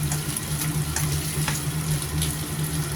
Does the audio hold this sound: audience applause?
no